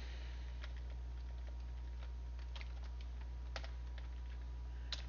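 Rapid, uneven keystrokes tapped on a computer keyboard while setting up an Appium mobile test, light clicks scattered in bursts over a steady low hum, fairly faint, with no talking.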